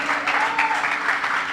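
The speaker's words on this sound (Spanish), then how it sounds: "aplauda al Señor" A church congregation claps together in a dense, continuous burst of applause at a Sunday service, fairly loud and close, lasting a short moment.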